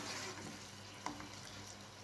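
Syrup in a pot bubbles and simmers steadily with a soft, continuous hiss and a few tiny pops, fairly quiet and close.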